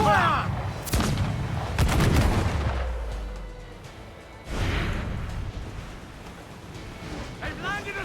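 Ship cannons fire a volley in Assassin's Creed IV Black Flag, with several heavy booming shots in quick bursts, crashing water and battle noise under shouted crew voices.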